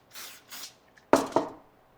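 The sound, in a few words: spray adhesive sprayed onto back of paper circle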